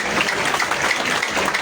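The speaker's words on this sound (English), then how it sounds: "I'll ask each of us to clap for our able panel" An audience applauding a panel at a political gathering, a dense, steady wash of many hands clapping at once.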